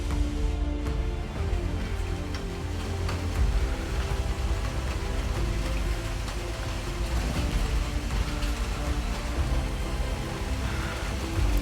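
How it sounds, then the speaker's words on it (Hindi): Heavy rain pours steadily on a street in Aizawl, Mizoram, a dense, continuous hiss and patter with no letup and no voices. "तेज़ बारिश हो रही है।"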